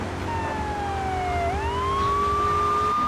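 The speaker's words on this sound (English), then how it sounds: "let me turn on my siren so they won't" A police car siren wails close by in a steady tone, sweeping down and then rising again over a constant background hum, with no talking.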